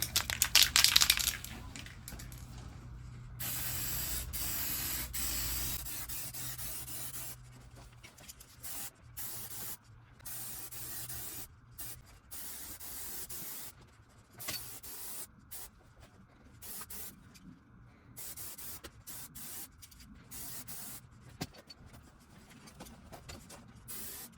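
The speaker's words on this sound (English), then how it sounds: "We're not in ideal spraying conditions, of course, but the finish will still be without compromise." A spray gun applies clear coat to a Monster Sport body kit for a Suzuki Swift ZC31S in quiet, intermittent hissing bursts that start and stop irregularly, with a louder burst at the start.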